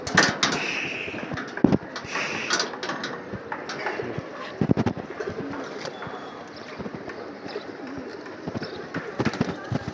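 Pigeons in a loft coo and stir with scattered wing movement, close by and moderately loud, while someone talks over them throughout.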